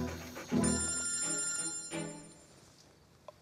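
A phone's electronic ringtone chirps repeatedly in an indoor scene from a Turkish TV drama, moderately loud over soft room noise, with no voices.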